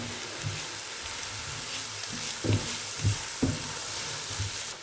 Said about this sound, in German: Da kommt jetzt etwas Butterschmalz rein und die Zwiebeln und der Knoblauch, und die brate ich da drin richtig schön an.